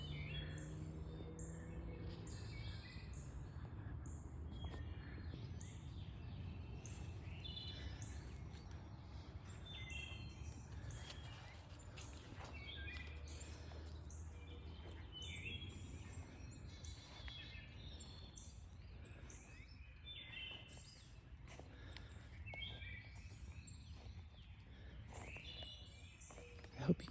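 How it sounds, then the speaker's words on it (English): Birds sing in a spring garden, giving faint, scattered chirps and tweets throughout against a quiet outdoor background with a low rumble. "I hope you can hear the birds singing."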